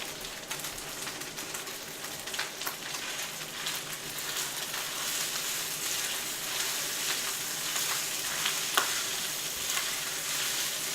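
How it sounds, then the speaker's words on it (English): Sticky rice stirred in a hot pan, a steady broadband sizzle with scraping stir strokes throughout, close and fairly loud, no voices. "We need to just give that a stir real quick"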